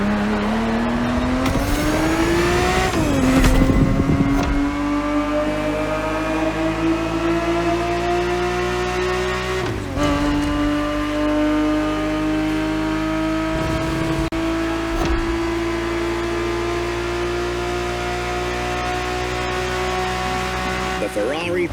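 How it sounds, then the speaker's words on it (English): A 1970s Ferrari 365 GTB4 in The Crew Motorfest racing game holds a loud, sustained engine drone with shifting pitch and a few gear changes, and a voice speaks over it. "The Ferrari 365 GTB4 is the perfect vehicle for you to experience Ferrari racing as it felt back in the 70s"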